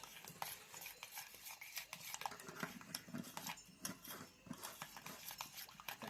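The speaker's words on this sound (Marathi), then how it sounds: "आता ह्या चमच्यानं मस्त हलवून घेतो" A spoon stirs and clinks against a metal bowl while egg flatbread batter is mixed, giving a steady run of small scraping taps and light knocks, close and fairly quiet, with no talking.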